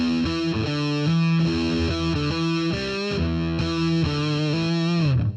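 Electric guitar run through a Siren fuzz pedal on its scooped setting, fuzz turned up a little with tone and volume near noon, playing a thick, sustained distorted riff of changing notes, loud and steady with no talk.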